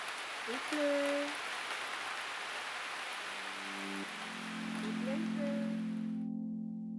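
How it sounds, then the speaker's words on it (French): Steady rain patters on a sailboat lying at anchor, a broad even hiss throughout with a few brief tonal sounds and a low hum joining in the second half. "Il pleut."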